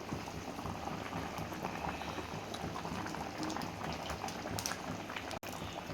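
Mutton curry with large raw mango pieces bubbling at a steady boil in a pot, a dense continuous fizz and pop of liquid, close and even throughout.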